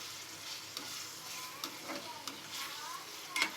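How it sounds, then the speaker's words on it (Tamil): Prawns with ginger and garlic stirred in a frying pan, giving a steady soft sizzle broken by repeated scraping strokes of the spoon, close up and without talk. "நல்லா கலந்து விட்டுருங்க."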